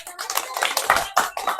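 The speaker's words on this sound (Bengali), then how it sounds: "হাততালি হবে সুন্দর" A short run of sharp hand claps, about half a dozen in quick, uneven succession, fairly close, while a mother and daughter play a game of Ludo.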